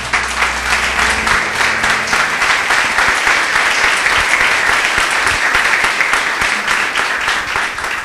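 A church congregation breaks into strong, sustained applause, dense clapping filling the room steadily from start to finish with a faint low hum beneath early on.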